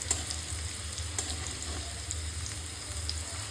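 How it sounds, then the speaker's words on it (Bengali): Potatoes fry for khichuri in hot oil, giving a steady, close sizzle and crackle with faint stirring scrapes throughout and no talking. "এখন আমি আলু ভাজছি খিচুড়ি"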